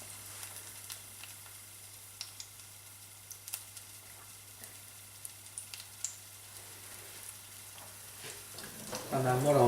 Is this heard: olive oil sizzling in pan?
yes